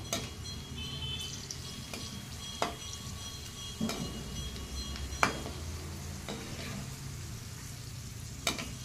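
Raisins frying in hot oil in a pan while making makyacha chivda, a steady soft sizzle with occasional sharp clinks of a spoon stirring against the metal pan.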